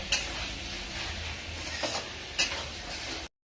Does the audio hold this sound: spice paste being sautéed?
yes